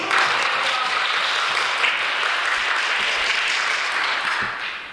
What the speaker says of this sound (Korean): 하나님께 영광의 박수 한번 칩시다